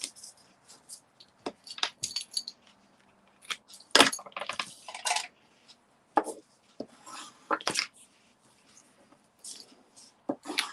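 Irregular crisp snips and rustles as scissors cut through paper, close by, in short bursts with brief pauses between.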